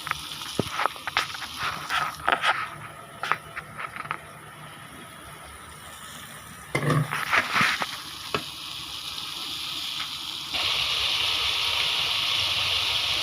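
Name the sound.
sautéing potatoes in a pan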